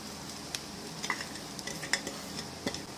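Onions sizzling in hot oil in a pan as they are stirred, a steady close frying hiss broken by several sharp utensil clicks and scrapes, with no talk.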